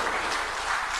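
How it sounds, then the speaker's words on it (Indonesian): Applause for a government minister at an official speech event: a short burst of dense, uniform clapping, continuous and fairly distant with no clear voices. "Tepuk tangan sekali lagi untuk Bapak Menteri."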